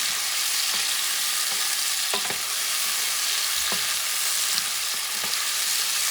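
Tomatoes are stirred into a pot of frying bison stew, with a constant bright sizzle and scattered soft scrapes and knocks of the spoon against the pot. No one speaks.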